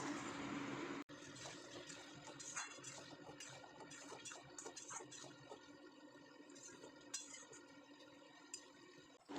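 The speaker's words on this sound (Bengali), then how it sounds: "চলো এখন আমি জলটা ঢেলে দিই গরম জলটা যে করেছি সেই গরম জলটা আমি এর মধ্যে এখন দিয়ে দেবো" Hot water is poured into a potato and cauliflower curry, a soft, continuous splashing pour heard faintly and close, with no talking.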